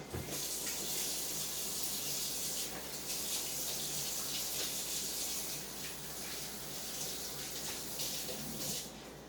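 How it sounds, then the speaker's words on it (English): A kitchen sink tap runs steadily while hands are washed under it, giving a continuous close hiss of splashing water with slight shifts in the flow for about nine seconds. "let me wash my hands"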